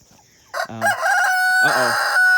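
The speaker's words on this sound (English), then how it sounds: "these are the next meat birds that we're gonna eat" Young roosters being raised as meat birds crowing close by, a few short clucks followed by loud, drawn-out crows that overlap, strident and harsh, with no talk.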